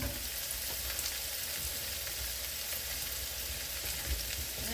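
Cut mushrooms sizzle steadily in hot olive oil, a dense, even crackling hiss with occasional pops and stirring scrapes, close and continuous without talk.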